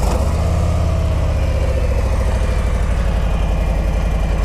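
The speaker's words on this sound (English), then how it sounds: "Let's hear what this Road King sounds like." Stock-exhaust 2017 Harley-Davidson Road King motorcycle idling close by, a loud, steady, deep lumpy rumble with an even pulsing beat throughout.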